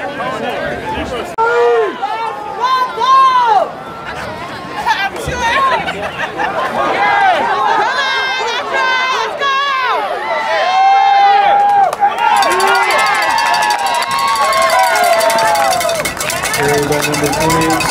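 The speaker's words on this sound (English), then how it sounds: "the teammates cheering for Bulldog first down." Teammates cheer and chatter in a loud, excited crowd hubbub after a Bulldogs first down at a high school football playoff game, Moore vs John Hardin, with overlapping shouting voices throughout.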